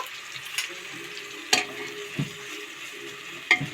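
Onion fries with ginger-garlic paste in a pan, giving a steady sizzle broken by occasional sharp clicks and scrapes from stirring.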